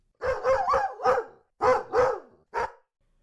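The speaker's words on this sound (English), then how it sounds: "The dog growled still more ferociously, and then began to bark frenziedly." A dog barks in loud, frenzied bursts at a striped hyena in an Indian jungle at night, about six close barks in two quick clusters followed by a final single bark.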